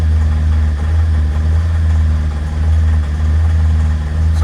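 A Citroen C5 engine idles with a steady low rumble, its uneven throb suggesting it is running rough, heard up close without any talking.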